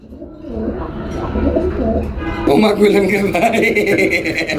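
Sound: pigeons cooing

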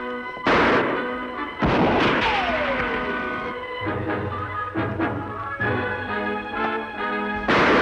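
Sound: gunfire in a shootout

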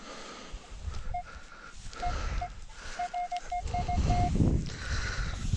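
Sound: metal detector signal tone over buried coin or can

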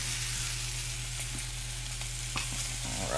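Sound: duck breasts searing in a hot pan

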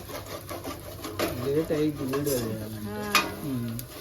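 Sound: chicken frying in a pan

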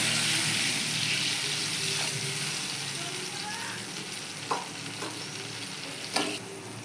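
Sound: water poured into frying eggplant and spices

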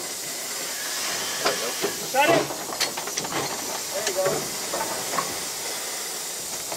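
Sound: steam hissing from a 1915 Baldwin 0-6-2T steam locomotive

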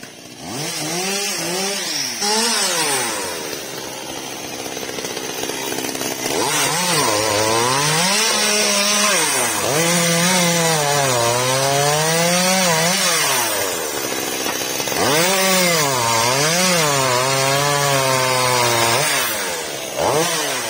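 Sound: Makita chainsaw cutting an old coconut tree

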